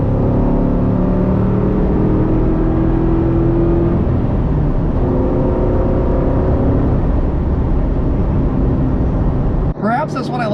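A Ford Mustang with an Edge body, its freshly rebuilt engine running smoothly while driving, a steady loud drone with shifting harmonic tones, ending in a brief clatter near the end.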